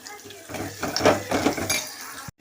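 Onions for sambar are sautéed and stirred in a pan, with clattering scrapes and metallic knocks of a spoon against the pan over a couple of seconds, close and fairly loud, ending abruptly.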